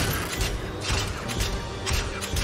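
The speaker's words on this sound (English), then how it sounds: "That noise is coming from the swings." Cartoon playground swings creak rhythmically in repeated swelling squeaks about every half second, close and steady over a dense background, with no one talking.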